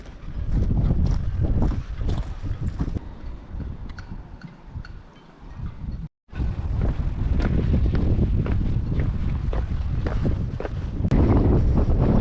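Strong wind buffets the microphone on a coastal harbour hike along the Chidham Peninsula in Chichester Harbour, a loud continuous roar with gusty surges and one brief dropout midway.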